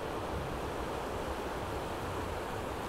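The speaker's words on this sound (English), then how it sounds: "I could listen to the sea all day. I just think it's such a lovely noise." Sea waves wash steadily onto Blackpool beach, a continuous broadband surf roar that stays close and even throughout, with no voices.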